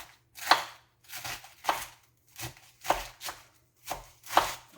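A knife chops salad vegetables on a board in about seven crisp, evenly spaced strokes, near and clear with no talk over them.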